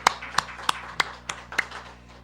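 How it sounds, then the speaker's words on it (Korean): A church congregation claps after a prayer of blessing for a family, a few hands striking in a loose, sparse rhythm of about six distinct claps before fading out. "복된 가정 우리 축복하며 박수로 영광드립니다"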